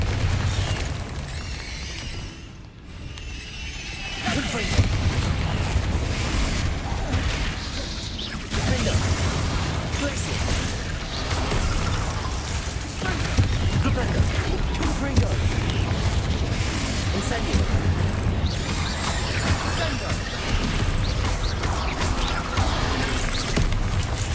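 Bombarda and Confringo explosion spells in Hogwarts Legacy, repeated booming blasts and crashes amid whooshes over a dense rumbling background, with a voice speaking between impacts.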